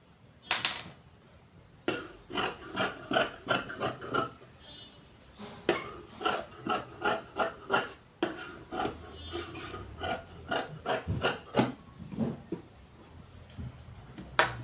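Scissors cutting the sleeve from chudidar fabric, a close series of rhythmic crisp snips in several quick runs separated by short pauses, with no voices.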